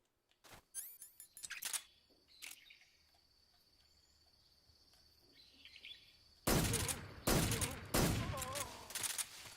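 Gunfire in Metal Gear Solid 3, with a few sharp shots early on, then a quiet stretch of jungle insect chirps and ambience, followed by loud bursts of gunfire and bird-like calls toward the end.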